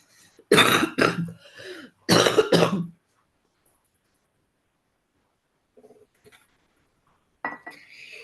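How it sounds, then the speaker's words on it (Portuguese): A woman coughs several times in two close bursts of harsh, throaty coughs during a health and diet talk, followed by quiet and a few faint small sounds. "Desculpa a tosse"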